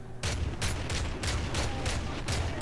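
Enemy gunfire in Call of Duty Modern Warfare 3 arrives as repeated sharp bursts, about eight rapid shots spaced fairly evenly, moderately loud with a low rumble underneath.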